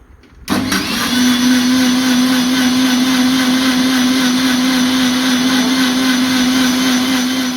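A kitchen mixer blending homemade mayonnaise with oil switches on abruptly and runs as a loud, steady motor whine with a constant hum, close and uninterrupted to the end.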